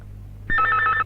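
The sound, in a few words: telephone ringing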